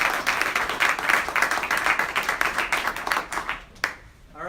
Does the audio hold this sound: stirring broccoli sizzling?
no